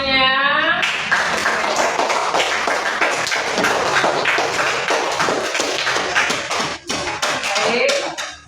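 A group, likely children in a classroom lesson, claps together in a loose, uneven burst of taps and thumps that builds and fades, with voices chatting over it.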